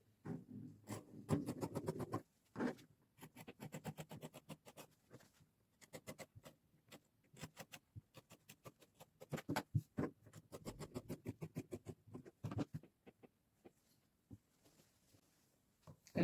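Scissors cut open folded gown fabric in a run of quick close snips and crisp rustles, in bursts with short pauses, fairly quiet, with no voices.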